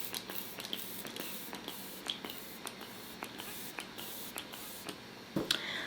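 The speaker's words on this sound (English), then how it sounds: "So I'm just going to spray this all over my skin." Jaclyn Cosmetics Professional Super Setter setting spray misted onto skin in a string of short, sharp pumps, close and fairly quiet, with one more forceful burst near the end.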